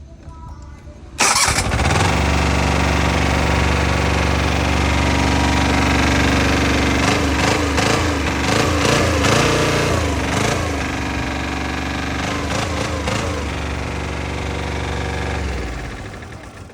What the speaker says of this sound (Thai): เครื่องยนต์ทำงานปั๊ม วิ่งหมุนปกตินะครับ